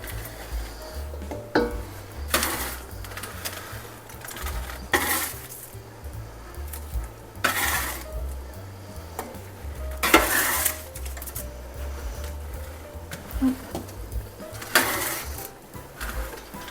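Roasted sweet potatoes, cauliflower, garlic and onion are stirred in a pot, with repeated scraping sweeps of a utensil over a steady faint sizzle and occasional clinks against the pot; no voices.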